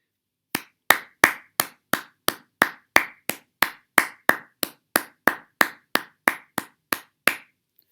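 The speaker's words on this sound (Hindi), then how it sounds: "ये तालियों की आवाज़ें आप समझ ही गए होंगे मैं क्यों बजा रहा हूँ।" One person clapping slowly and steadily, about twenty sharp, close, evenly spaced claps with silence between them and no other sound.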